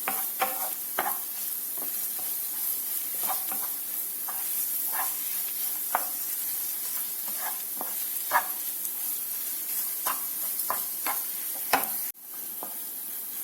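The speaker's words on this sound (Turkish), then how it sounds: "İlk önce salçamızı baharatlarımızı koyduktan sonra biraz karıştıralım." A utensil scrapes and knocks repeatedly against a pan while meat, tomato paste and spices sizzle steadily underneath, close up, with no voices.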